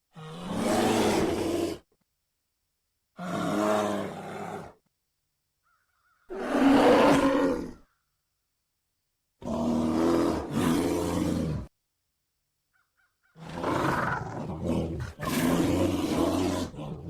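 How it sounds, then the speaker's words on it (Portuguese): A brown bear roars five times in a row, each deep, rough bellow lasting about two seconds and separated by short pauses, loud and close with no other sound between calls. "Urso pardo."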